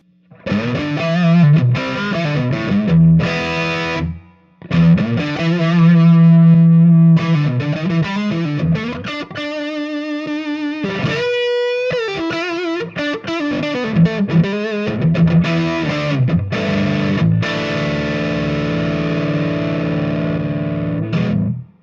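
Distorted electric guitar through a Wampler Equator EQ pedal plays riffs and sustained notes, its tone shifting brighter and thinner, loud and close with brief pauses between phrases.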